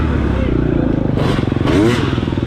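A dirt bike engine revs hard during an off-road race, a loud continuous buzzing drone with rising revs and clattering, close by and steady throughout.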